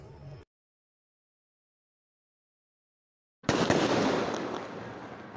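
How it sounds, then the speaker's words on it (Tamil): Diwali firecrackers burst in a loud, dense crackling rush outdoors, starting abruptly after a short burst and a few seconds of silence, then sustaining a hissing, popping roar. "ஏய் கவின் பட்டாசு காலி ஆயிடுச்சு டி"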